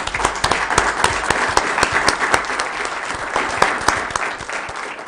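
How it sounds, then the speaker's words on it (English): An audience at a community awards event gives a round of applause, dense continuous clapping with sharp individual claps standing out, steady and fairly loud before gradually easing. "Give them a round of applause."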